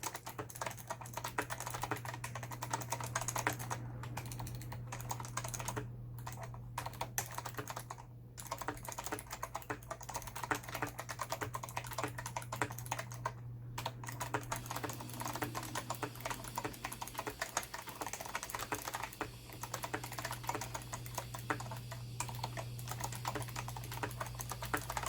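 Continuous typing on a GAMDIAS Hermes E1A mecha-membrane gaming keyboard, with rapid, close, fairly quiet clicky keystrokes running without a break over a low steady hum and no talking.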